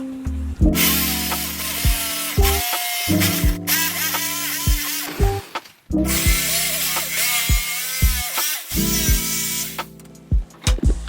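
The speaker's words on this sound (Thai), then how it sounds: "จากนั้นก็เอาจิ๊กซอตัดตามรูปที่วัดไว้เลยค่ะ" Jigsaw cutting a curved wooden side panel for a kitchen dish rack, a loud buzzing whine in several long bursts with brief pauses between cuts, close up and without voices.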